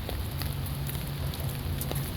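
Steady rain falls on a harbor walk by docked boats, a constant close patter on surfaces with scattered sharper drops and no voices.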